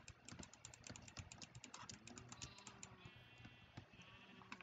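Sheep bleating in the video game Minecraft, a run of repeated bleats from one or more sheep over steady game background sound, close and fairly loud, with no talking.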